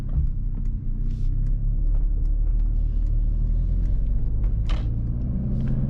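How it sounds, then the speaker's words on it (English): A deep, rumbling four-cylinder engine of a 2024 Mercedes-AMG GLC 63 S idling and revving loudly nearby, with a few sharper bursts from the exhaust over the low drone. "I would even say this is the loudest 4-cylinder which AMG offers"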